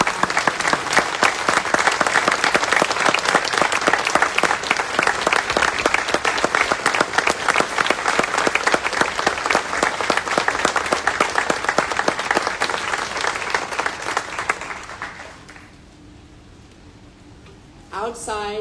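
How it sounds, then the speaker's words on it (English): Outdoor crowd at a plaza sculpture dedication applauds in a long, dense round of clapping that fades out near the end before a voice begins to speak. "Could you please join me in a round of applause?"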